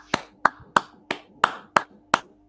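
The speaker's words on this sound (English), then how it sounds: "Clap it up, clap it up." A group of people clap their hands in a slow, even rhythm, seven crisp claps spaced about a third of a second apart, fairly close and alone without talk.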